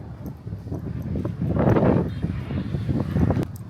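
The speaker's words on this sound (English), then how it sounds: "It is absolutely windy" Wind gusts buffet the microphone in low, rumbling bursts by a riverside in Ninh Binh, Vietnam, rising to a stronger rush midway, with no voices.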